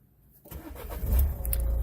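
A 2014 Nissan Note Tekna dCi diesel engine starts by keyless push button after a short quiet pause, catching with a cranking burst and settling into a steady, close idle rumble.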